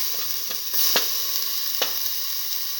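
Ginger sizzling in a hot frying pan, a steady bright crackle of oil with a few sharp scraping clicks from a utensil, close and fairly quiet.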